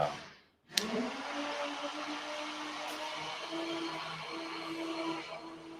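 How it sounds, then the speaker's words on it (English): A household vacuum cleaner switches on with a sharp click and settles into a steady, moderately loud whirring drone that holds on without a break. "It is the vacuum cleaner."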